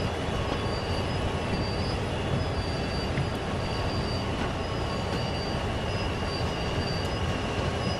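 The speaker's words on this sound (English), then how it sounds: "Let's bring this train to a stop" A train in the Train Sim World simulator braking to a stop, with steady rumbling rail noise and faint high wheel squeal running continuously throughout.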